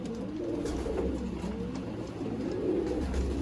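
A Ferozpuri pigeon coos in low, rolling, throaty phrases, close and steady, with a soft background hum and no talk.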